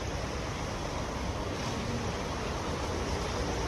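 Strong, dirty floodwater rushing through flooded streets in Sharjah, UAE, a steady loud broadband roar of churning flow that holds constant throughout with no pauses.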